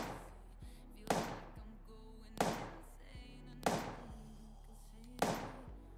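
Five evenly spaced shots from a Model 29 revolver in Apocalypse Rising, each a sharp crack with a short ringing tail, roughly a second and a quarter apart, moderately loud with no talking over them.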